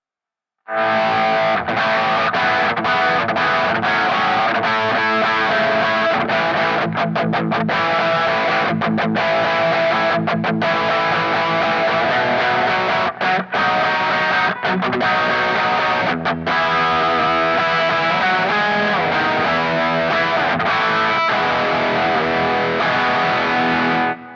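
Heavily distorted electric guitar played through a Kemper profile with graphic EQ before the stack and studio EQ after it, a dense chugging riff with sharp stops and restarts, loud and continuous throughout.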